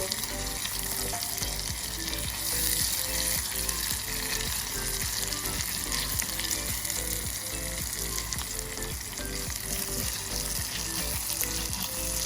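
Chopped onions sauté steadily in hot oil for a tomato chutney, a dense, continuous sizzle that holds at an even level throughout, close and alone with no talking.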